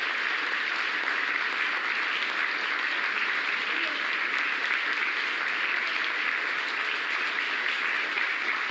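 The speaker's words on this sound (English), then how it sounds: "Jubilation here in the flight control room." Sustained applause and cheering fill a flight control room after a spacecraft splashdown, continuous from start to finish, a dense, steady roar of many hands clapping with excited voices mixed in.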